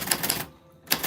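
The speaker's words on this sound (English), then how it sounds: "Your name fell on the typewriter bell." A typewriter clatters in a quick run of sharp keystrokes, pauses briefly, then resumes, close and fairly quiet, with no voices.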